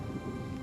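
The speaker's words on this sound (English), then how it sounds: "I'm in the rain." Rain falling in a video game world, a steady broadband wash with low rumbling, continuous and fairly loud, no voices over it.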